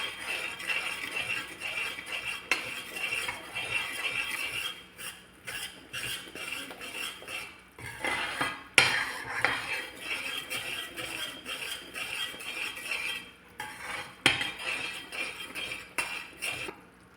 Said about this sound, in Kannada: ಈಗ ಬೆಲ್ಲ ಕುದೀತಾ ಉಂಟಲ್ಲ, ಈ ಟೈಮಲ್ಲಿ ನಾವು 1 ಸ್ಪೂನ್ ತುಪ್ಪ ಹಾಕುವ. ತುಪ್ಪ ಹಾಕಿದ ಮೇಲೆ ಒಳ್ಳೆ ಮಿಕ್ಸ್ ಕೊಡುವ.